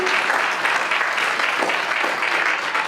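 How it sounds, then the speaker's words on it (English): Steady applause from an audience at a school attendance celebration, dense and continuous clapping throughout with no voices standing out. "Let's give her a nice round of applause"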